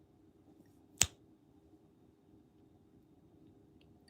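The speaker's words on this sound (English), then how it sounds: "when I snap my fingers on 1, 3," One sharp finger snap cracks out clearly and close against a faint, quiet background hum, a single bright click standing alone.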